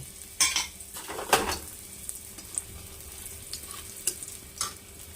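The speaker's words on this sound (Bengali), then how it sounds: "এবার আমি এই বড়িগুলোকে ভেজে তুলে নেব।" A steady sizzle of lentil dumplings frying in oil, broken by a few clinks and scrapes of a utensil against the pan.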